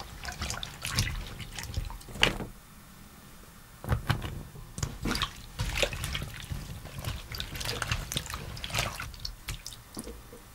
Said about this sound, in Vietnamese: Sau đó các bạn đem rửa cho sạch hết mủ đu đủ nha.